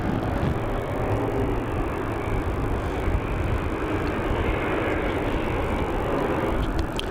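An airliner departing runway 27 at Melbourne Airport, a loud, steady broadband engine roar that holds evenly throughout.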